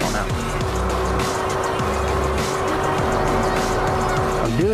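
A 1999 Mitsubishi Eclipse without a turbo runs with a loud, steady engine drone and some tire noise, while voices talk over it.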